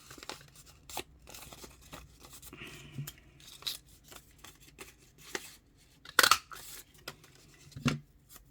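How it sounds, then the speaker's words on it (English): Scissors snipping through doubled sheets of thin paper to cut out a circle for a crafted autumn journal tag, giving a series of close, soft irregular cuts and rustles, with sharper snips near the end. "cut a circle."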